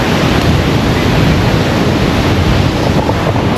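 Ocean surf washes onto a beach resort shore in American Samoa as a loud, continuous roar, heavily mixed with buffeting wind noise on the microphone.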